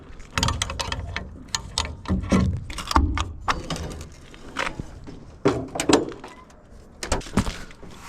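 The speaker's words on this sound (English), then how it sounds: "So I'm gonna go ahead and get these other doors popped open." Truck trailer doors being popped open make a series of loud metallic clunks, latch rattles and knocks at irregular intervals, close by and without talk.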